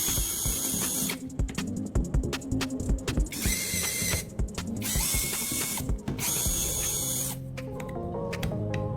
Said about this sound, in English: Grab a drill and drill right through the marked spots on the panel.